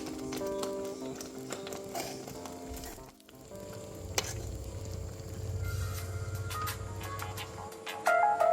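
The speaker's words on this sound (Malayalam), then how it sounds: "അപ്പോൾ ഇത് നമ്മൾ പനീർ ഇതിൻ്റെ അകത്തോട്ട് ഇട്ട് കൊടുക്കുകയാണ്" Paneer drops into a hot pan and fries with a continuous crackling sizzle, swelling louder partway through, punctuated by occasional clinks of a utensil.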